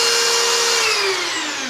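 A corded drill, powered through an inverter, whines loudly and continuously while driving a turbine, its pitch sliding slightly downward as the motor runs.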